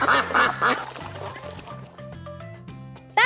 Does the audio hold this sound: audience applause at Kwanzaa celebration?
no